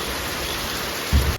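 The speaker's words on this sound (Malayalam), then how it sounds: "മഴ പെയ്തുകൊണ്ടിരിക്കുന്നു" Rain pouring down outside, a constant broadband wash of drops heard near and fairly loud, with a brief low thump near the end and no speech.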